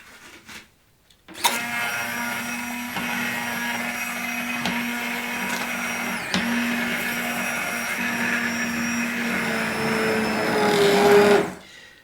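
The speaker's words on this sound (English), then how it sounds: "you can make cream of potato soup, which is really relatively easy to do if you have a hand processor or a blender" A blender whirs steadily while pureeing cooked potatoes into cream of potato soup, a loud continuous motor drone with a constant hum that starts abruptly and runs for about ten seconds, swelling slightly near the end before cutting off.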